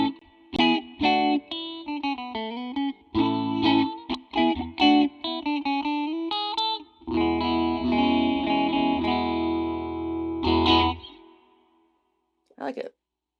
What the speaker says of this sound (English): I knew I would like the phaser